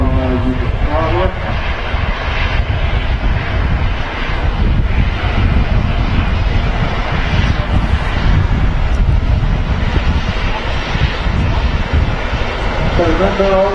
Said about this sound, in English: aircraft vacating the runway is EasyJet 9808